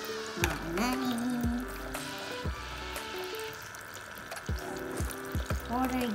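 Water runs from the tap of a toy kitchen sink in fits and starts, with short bursts of pouring under a child's and an adult's chatter throughout.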